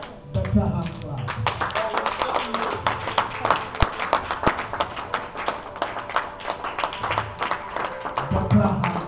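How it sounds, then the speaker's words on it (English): A church congregation claps continuously in a dense, irregular round of applause, close and fairly loud, with voices talking and calling out over it. "Better hand clap."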